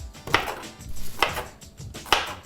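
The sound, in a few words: chopping garlic with a knife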